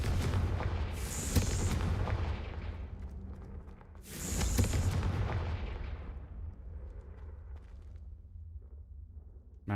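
Confringo blasting spell explosions in a video game, two big booming blasts about three seconds apart with crackling debris, each trailing off into a low rumble before the next.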